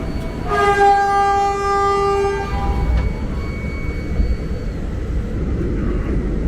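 A KRL INKA commuter train departs Solo Balapan station, sounding a loud sustained horn blast up close, followed by a low rumbling roar of the moving train that continues steadily.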